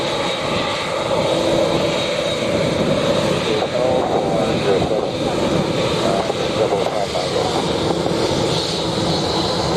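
An Airbus A320 rolls for takeoff on runway 07 at Montego Bay airport in Jamaica, a loud, steady, broad jet engine roar with wind noise, close and continuous throughout.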